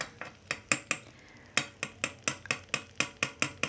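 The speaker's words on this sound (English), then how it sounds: "keep on stirring them slowly as they are absorbing" A utensil stirs fried chips coated in masala spices in a metal pan, making a steady run of sharp scrapes and clinks, roughly fifteen strokes in quick rhythm over a soft sizzle.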